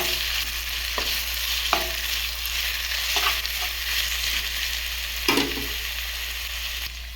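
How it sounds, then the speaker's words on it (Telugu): Ginger garlic paste frying in hot oil for an eggplant curry, a steady soft sizzle with a few scraping stirs of a spoon against the pan, alone without talk. "ఇప్పుడు ఇందులో కొంచెం అల్లం వెల్లిపాయ పేస్ట్ పెట్టు. నేను కూడా వేగండి."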